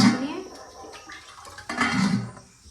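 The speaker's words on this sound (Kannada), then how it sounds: "ಇದಕ್ಕೆ ಇವಾಗ ಒಂದು ಸ್ವಲ್ಪ ನೀರು ಹಾಕ್ಬಿಟ್ರೆ" Water is poured into a cooking pan with cumin and tomato, making a short splashing, gurgling rush in the middle, with a voice talking at the start.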